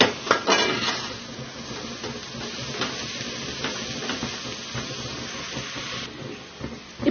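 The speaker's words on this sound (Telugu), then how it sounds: "ఇప్పుడు కొత్తిమీర వేసేసుకుందాం ఒక్కసారి కలుపుకొని" A spatula scrapes and clinks against a pan as fried rice is stirred with fresh coriander, and a steady frying hiss runs underneath. The scraping is close and continuous, with no talk.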